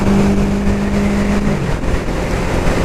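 A car engine drops its pitch through a downshift, a steady drone holding throughout with no talk.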